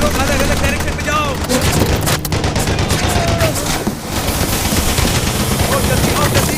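Dense, continuous bursts of rapid gunfire crackle in a chaotic fusillade during a hijacking scene, loud and sustained throughout with no pauses.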